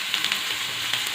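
Cumin seeds and onions sizzle in hot oil with ghee for palak paneer, a dense, close, continuous hiss with small spitting crackles and no talking.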